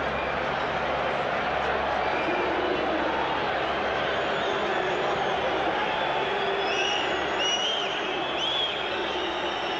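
A stadium crowd at a football match applauds the referee, a broad wash of clapping and crowd noise running steadily throughout, with a commentator talking over it.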